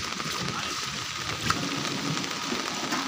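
Heavy rain pours steadily over flooded main roads in Habiganj town, a dense, even hiss with no break and a faint crackle now and then.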